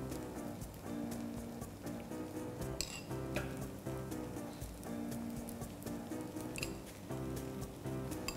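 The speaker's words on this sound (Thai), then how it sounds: "เพื่อให้เพิ่มความกรอบยิ่งขึ้นนะคะเราจะทำการหยอดน้ำมันลงไปค่" Oil drizzled onto cooking batter in a kanom krok pan with mushrooms and egg crackles and sizzles softly, a faint, steady patter of small pops close by with no talk.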